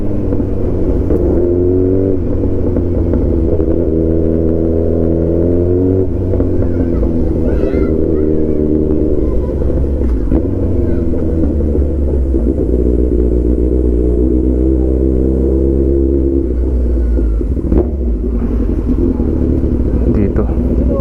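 A Kawasaki Z900 RS motorcycle engine runs on a first ride around Calamba, a loud continuous rumble with rising and falling revs as it accelerates, heard under a rider talking over the noise.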